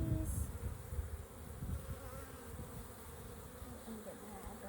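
Honeybees buzzing around an open hive during an inspection, a faint continuous hum with scattered close buzzes and some low rustling handling noise.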